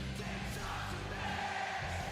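A large WWE SmackDown arena crowd sings together, a steady, distant wash of many voices with a muffled roar that holds without a break.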